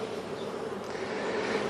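Honey bees in an open hive during a live inspection make a dense, continuous buzzing that stays steady and close throughout, with no talking.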